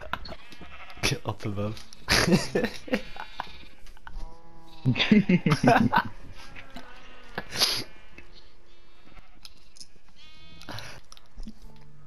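Sheep bleat repeatedly in Minecraft, several loud, wavering calls spaced through the scene, with a person talking briefly between them.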